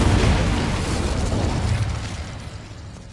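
Incendio fire spell cast in Hogwarts Legacy, a loud broad roaring whoosh of flame that bursts at once and then slowly fades over about three seconds, heard alone without talk.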